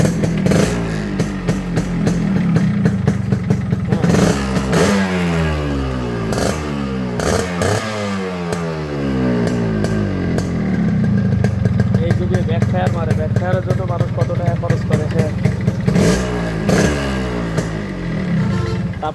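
A Yamaha RXS 115 motorcycle engine starts and revs repeatedly, loud and close, with rising and falling pitch sweeps between idling stretches and some mechanical clatter; someone talks intermittently over it.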